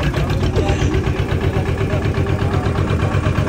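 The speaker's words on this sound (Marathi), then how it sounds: "आणि आता आमची बोट निघाली आहे इथं." A boat engine runs steadily and loudly as the boat pulls away from the shore, a continuous low rumble with an even throbbing pulse throughout.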